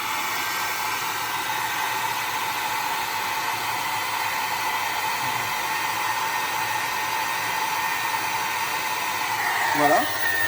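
A hair dryer powered by a solar panel and battery system runs continuously with a steady, loud whooshing hum that barely changes, then shifts briefly near the end.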